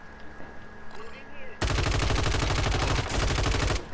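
Rapid automatic gunfire erupts in the video game Call of Duty, a loud, dense burst of rattling shots that starts abruptly after quieter ambient game sound and continues steadily for a couple of seconds.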